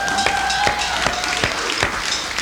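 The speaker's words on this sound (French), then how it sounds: "Renaud Binette, mesdames, messieurs, on l'applaudit" An audience at a 1995 community TV variety show applauds a guest named Renaud Binette, a steady wash of crowd clapping at moderate loudness through the whole stretch, with a faint tone underneath.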